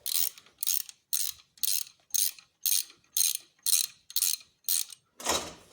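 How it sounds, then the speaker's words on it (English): A ratcheting box-end wrench turns bolts during alternator removal on a 2002 Corvette Z06, giving about ten crisp, evenly spaced bursts of close metallic clicking, then a longer final burst. "I'm using just a ratcheting box end here."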